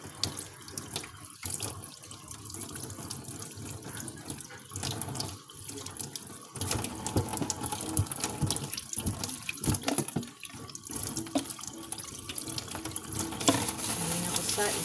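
A strong flow of running water gushes steadily from a tap into a basin, with a continuous loud rush and some splashing close by that swells in the second half.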